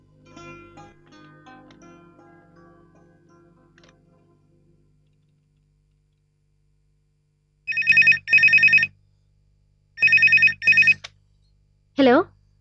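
An indoor telephone rings in two separate bursts of sharp, bright double rings after a voice fades away, and a short vocal sound follows at the end.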